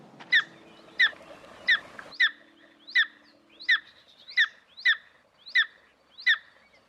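A young eagle chick in a nest on a cliff face calls in a steady series of about ten sharp, high chirps spaced roughly evenly. Each one is clear and close, with a low hum under the first few.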